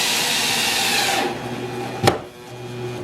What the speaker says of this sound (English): Reason for pre-drilling is these are narrow strips.